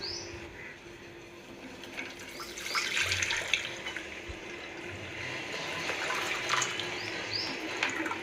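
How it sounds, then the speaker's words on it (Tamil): Water poured over blended drumstick leaves for straining makes a gentle, continuous splashing and trickle at moderate level, rising slightly partway through. "அதில் தண்ணியை ஊற்றிக்கலாம்"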